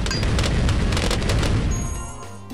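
Heavy booming blasts in Bloons TD 5, a dense roar of cannon explosions rumbling loudly before tapering off.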